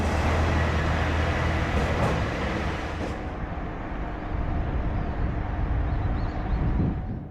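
An older train rumbles along in Shikoku, near Tokushima, with a steady, loud, continuous roar of wheels and engine that drops slightly partway through and then holds, with no voices over it.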